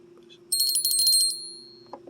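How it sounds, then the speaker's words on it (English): A small angel bell rings for about a second with bright, high overtones, then fades, over a steady low electrical hum in a quiet room. "There's my angel bell."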